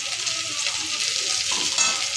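Pieces of pointed gourd (potol) sizzle and crackle steadily in hot oil, a close, continuous frying hiss with light stirring scrapes and no voice.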